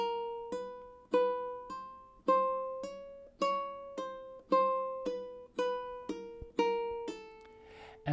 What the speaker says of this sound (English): So hammer on, leave the first finger down, leave the second, leave the third, leave the fourth, release, back down.